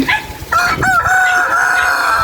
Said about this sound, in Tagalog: tingnan nyo ang aming alagang mga manok